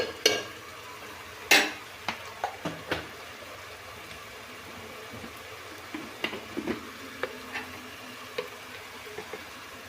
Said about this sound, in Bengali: সবগুলো এখন আমি ভালো করে তেলের সাথে ভেজে নেব।